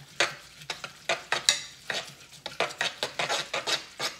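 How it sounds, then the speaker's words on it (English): Dorito mac and cheese is stirred with a small spoon, giving a quick series of wet squelching scrapes and light clinks against the bowl, close up with no talking. "then just mix it up, but with the smaller spoon now"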